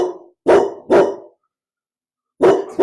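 Several loud, close dog barks in quick succession indoors, a pair of sharp barks followed by a pause and then two more, with no talk over them.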